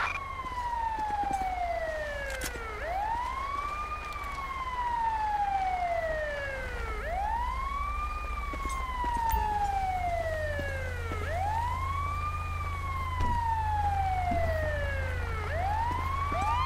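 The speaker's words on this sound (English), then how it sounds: "Ambulance." Wailing ambulance siren from the LSPDFR police game in Sandy Shores, sweeping up and down in slow repeated cycles, loud and steady over a low engine rumble, with no talk.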